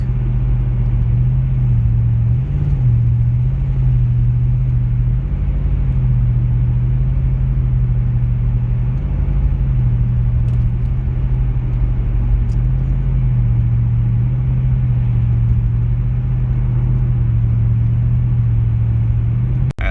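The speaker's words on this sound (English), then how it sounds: "with that horrible exhaust leak." A steady, loud low-pitched engine drone with a raspy, rumbling exhaust tone from an exhaust leak, continuous and unchanging, with a faint wash of road and wind noise through open windows.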